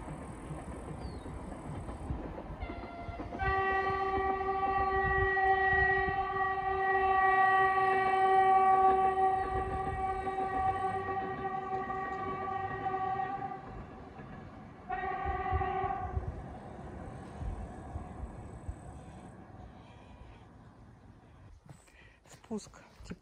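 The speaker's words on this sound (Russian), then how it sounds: "Вот идет поезд." A train rolls past near Mount Paaso in Karelia with a loud, sustained horn blast lasting several seconds, followed by a second shorter horn burst, over rumbling wheels and wind.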